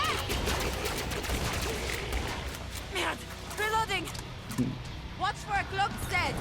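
Repeated gunfire bursts from a gun used by a Firebug player against bigger enemies in the video game Killing Floor 2, loud and dense with game effects, and a voice talking over parts of it.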